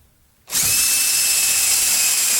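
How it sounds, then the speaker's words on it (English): A power drill bores through aircraft wing spar metal for a Bearhawk build, starting abruptly after a brief quiet moment and then whining loudly and steadily at close range. "I'll drill from the back for the second one"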